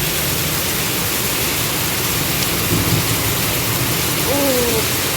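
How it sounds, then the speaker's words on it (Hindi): Heavy rain pours down in a dense, steady roar that masks everything, with a faint voice briefly heard beneath it, during a thunderstorm. "बहुत तेज़ तेज़ बारिश हो रही है।"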